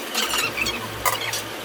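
Potatoes are stirred together with fried chicken in a pan, giving short scraping, squeaking strokes over a faint sizzle, close up, with no voices.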